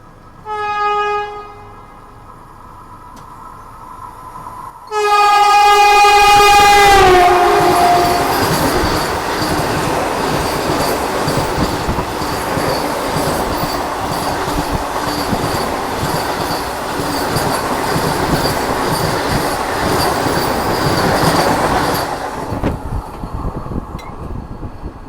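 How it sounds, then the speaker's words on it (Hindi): A Vande Bharat train and the Ahmedabad Shatabdi Express overtake on an Indian railway line. A horn blast sounds first, then a loud passing roar with a rising squeal and rhythmic wheel clatter that goes on for about seventeen seconds before fading. "तो गांधीनगर कैपिटल वंदे भारत जो है वो पीछे आ रही है हमारे, और साथ ही साथ जो शताब्दी एक्सप्रेस है"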